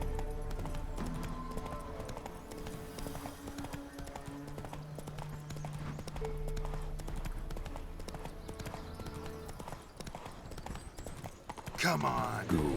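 Hooves clip-clop steadily as a horse gallops in The Witcher 3, a continuous rhythmic beat under in-game music and ambience, with a louder clatter near the end.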